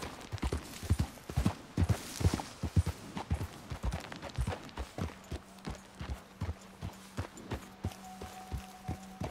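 Rhythmic horse hooves clip-clop at a steady walking gait in Red Dead Redemption 2, the regular beats close and clear throughout, with a low sustained hum joining partway through.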